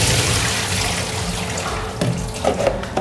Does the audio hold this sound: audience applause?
no